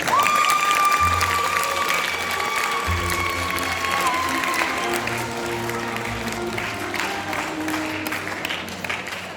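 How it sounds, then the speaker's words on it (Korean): An audience at an independence movement lecture event breaks into sustained applause to welcome a speaker, dense clapping from a hall full of people that holds steady throughout. "박수로 환영해 주시기 바랍니다."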